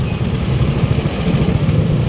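Cars sit idling in traffic, their engines making a steady low rumble that stays close, continuous and fairly loud with slight pulsing throughout.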